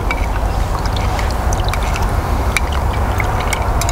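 Continuous watery swishing and sloshing, close and fairly loud, of a spoon stirring fresh honey into water in a glass, with faint clinks scattered throughout.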